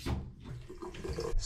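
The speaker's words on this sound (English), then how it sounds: "shut off our water supply to the house and drain it down" Water runs from a household faucet as the house plumbing drains down after the supply is shut off, a soft, close, steady splashing and gurgling flow.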